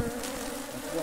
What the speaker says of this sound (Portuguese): A abelha perigosa.